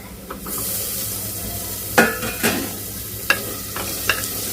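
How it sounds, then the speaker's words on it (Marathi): Tomatoes tossed into golden fried onions in a hot pan, then stirred: a steady close sizzle punctuated by a few sharp spatula knocks and scrapes against the pan, with no voices. "आता आपण टोमॅटो घालून घेऊ."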